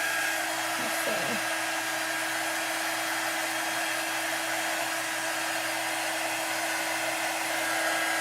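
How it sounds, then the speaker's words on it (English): Blow dryer running steadily and loud at close range, a constant whooshing roar with a steady hum that continues without pause throughout. "You can use a blow dryer."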